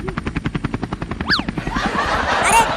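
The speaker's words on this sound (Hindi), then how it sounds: "तुम्हारा गधू हेलीकॉप्टर को चालू कर दिया है।" Helicopter rotor chopping in a steady rapid pulse, joined by a rising whistling sweep, then a louder, more continuous engine roar.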